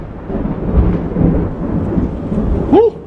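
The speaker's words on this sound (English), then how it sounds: "nothing like a little thunder" Low rolling thunder rumbles steadily through steady rain outdoors beside a pork-rib cook on an ugly drum smoker, filling the whole span with a broad, moderately loud wash and no talking.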